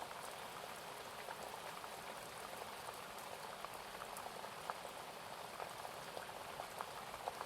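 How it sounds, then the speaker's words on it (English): Rain patters steadily against windows in a soft, even wash of drops that stays constant throughout, with no voices or thunder standing out. "The rain on the windows begins to soften."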